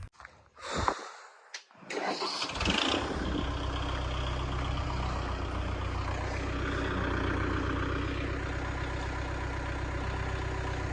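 An engine cranks briefly, sputters, then catches and settles into a loud, steady diesel idle rumbling close by.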